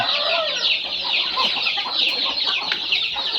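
Several young Kabu chickens cluck and chatter continuously at close range, a busy overlapping barnyard clamor with no voices.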